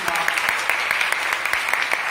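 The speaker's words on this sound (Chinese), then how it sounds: "给我们上帝的掌声鼓励一下。" Wedding guests applauding during a thank-you speech at the reception, a continuous patter of many hands clapping in a hall, fairly loud and even with a few sharper claps standing out.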